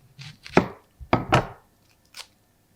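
Knife chopping vegetables such as onions, potatoes and carrots on a board in a kitchen, heard as a few distinct close thuds in two quick groups followed by a lighter final chop, with no speech.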